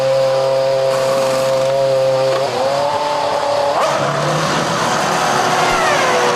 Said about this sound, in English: In comes the championship leader, Fernando Alonso. McLaren get to work.